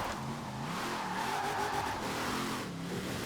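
Honda NSX-R GT, a mid-engine, rear-wheel-drive car tuned to 1300 horsepower, slides in Forza Horizon 4 with a steady, loud engine drone and tire noise running throughout without any talk.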